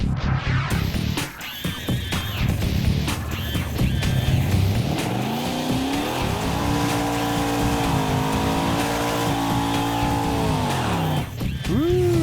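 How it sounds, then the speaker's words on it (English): A supercharged Chevrolet Nova drag car does a burnout at a drag strip, its engine roaring loud and close with rising revs and a sustained tire squeal, then easing off near the end. "Not a bad burnout. Sounds pretty good."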